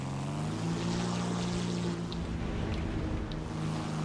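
A German bomber aircraft in the War Thunder flight game drones along with a steady, loud propeller engine hum, its tones shifting slightly as it flies, with no talk over it.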